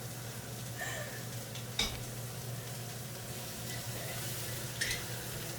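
Penne egg fried rice sizzles in a wok with a quiet, continuous frying hiss and a low steady hum, broken by a couple of sharp scrapes and clinks as it is stirred.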